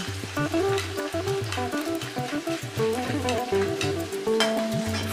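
Finely chopped green chillies fry in hot oil on a moderate flame, giving a steady sizzle partly masked by tonal background music throughout.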